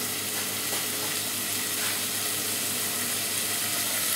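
Tomatoes with salt and pepper frying in a pan for pizza sauce, giving a steady, dense sizzle that stays loud and even throughout, with no talking.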